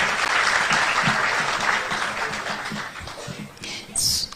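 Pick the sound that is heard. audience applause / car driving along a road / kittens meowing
audience applause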